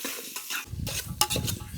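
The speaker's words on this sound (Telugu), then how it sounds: "ఎర్రగడ్డలు పచ్చిమిరపకాయలు బాగా వేగిపోయినాయి" Onions sizzle in hot oil in a pot, giving a close, bright frying crackle with a short stir or clink partway through, and no voices.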